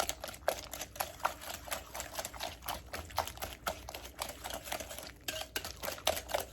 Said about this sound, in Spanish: Vamos a agregar los 2 huevos y ahora los batimos junto con la azúcar